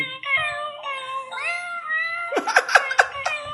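A birthday greeting card plays a recorded cat song, a series of tonal electronic meows in a sing-song melody followed by several quicker, sharper meow bursts, close and clear.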